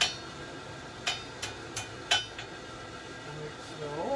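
Hammer blows on a forge-welded hook held in tongs on an anvil, five sharp metallic strikes in quick succession and then quiet, moderately close.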